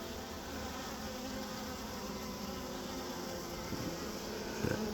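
A honeybee swarm hums in a continuous, even drone of many wings, moderately close and steady throughout, with a brief louder buzz near the end.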